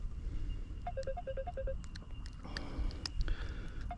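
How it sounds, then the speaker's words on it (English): A mobile phone ringtone chirps out a quick melodic pattern of short repeated notes, followed by brighter tones, fairly faint against outdoor background noise beside the water while fishing. "Someone's ringing me."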